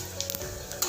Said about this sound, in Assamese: মই এতিয়া গোটা জিৰাকেইটা দি দিম। গোটা জিৰাকেইটা অলপ ফ্ৰাই হোৱাৰ পিছত